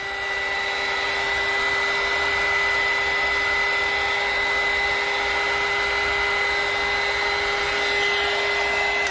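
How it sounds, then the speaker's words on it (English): A heat gun blowing steadily over poured epoxy resin while marbling outlet covers, a loud continuous whirring hiss with a constant tonal hum that holds evenly throughout, with no talk. "I'm gonna take my heat gun and just kind of mix the colors around a little bit."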